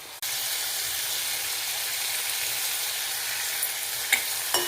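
Soya chunk curry sizzles loudly and steadily in a pan with a constant hiss close up, and a few sharp clicks of stirring come near the end.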